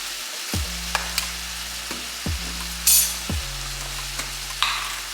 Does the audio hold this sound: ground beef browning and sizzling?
yes